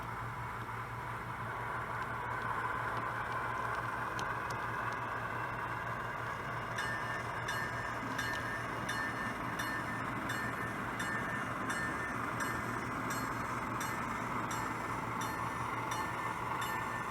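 A model railroad Amtrak train runs steadily on its layout, a continuous rumbling roll with a low hum and faint rail clicks throughout, moderately close and without voices.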